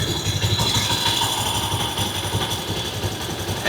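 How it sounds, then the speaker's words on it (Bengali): A TVS 125cc motorcycle engine idles steadily up close, a continuous throbbing rumble with no talking. "ইঞ্জিনের সাউন্ডটা শুনেন"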